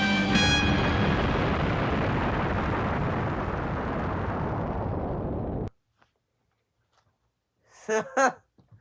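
A huge, drawn-out explosion from the Doctor Who serial Revenge of the Cybermen roars loudly for several seconds and then cuts to silence, followed by a short stretch of speech.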